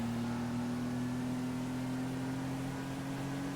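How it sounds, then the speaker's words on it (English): A car engine in GTA Online holds a steady, loud droning hum at a constant pitch, a sustained mechanical tone with no talk over it. "this car is kind of loud"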